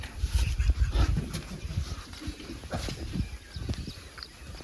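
A dog inside a house, close by, panting and whimpering with soft shuffling movement, irregular bursts that fade in and out without any speech over them.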